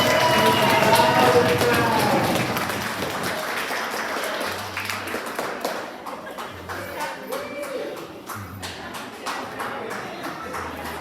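Audience at a graduation ceremony clapping for the graduates, strong applause at first that thins and fades, with scattered claps and murmuring afterward.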